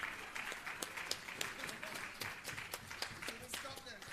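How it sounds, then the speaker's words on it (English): An audience at a Jamaican government event on organized crime in the fisheries sector claps fairly faintly, with a thin spread of individual hand claps while a voice talks over it. "The louder the clap, the more the funding we get."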